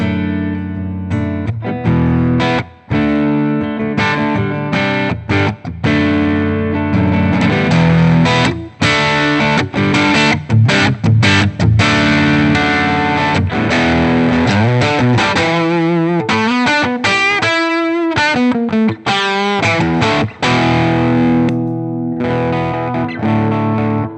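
Electric guitar played through a Boss OD-3 overdrive pedal, loud and crunchy with sustained chords and choppy riffs running steadily for over twenty seconds, brief gaps between phrases and no talking.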